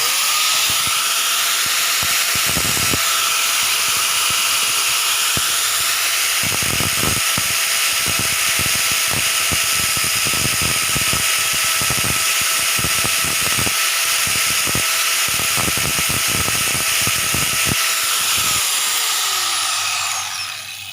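An angle grinder grinds the pin heads off a chain: a loud, steady high whine with repeated rasping bursts of metal contact, running close for about twenty seconds before winding down at the end.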